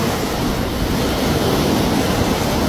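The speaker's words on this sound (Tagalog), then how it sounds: "Super lakas ng alon niya" Strong sea waves surge at a rocky coastal pool in Allen, Northern Samar, making a loud, continuous roar and wash of surf with no pauses.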